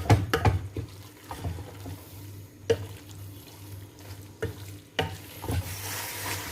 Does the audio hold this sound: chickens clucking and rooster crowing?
no